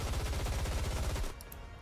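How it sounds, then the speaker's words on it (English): Rapid automatic gunfire from a heavy-armor character in the game Goddess of Victory: NIKKE, a loud dense burst of shots that cuts off abruptly, leaving a quieter tail with faint high chimes. "Gunfire, unmistakably Snow White's erupts from behind."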